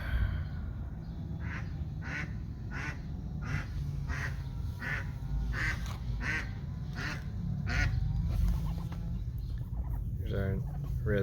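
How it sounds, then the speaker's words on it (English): A neighborhood duck waddles in for food, giving a long series of loud nasal quacks in a brisk uneven rhythm, close by over a steady background hum, with a few faster clipped calls near the end. "Here's our resident Daisy Duck coming in to get some duck food."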